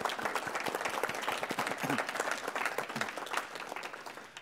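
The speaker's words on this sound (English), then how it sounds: "Could you join me, please, in a round of applause for them?" A round of applause from a conference audience, many hands clapping in a dense, crisp patter that holds steady and then begins tapering off near the end.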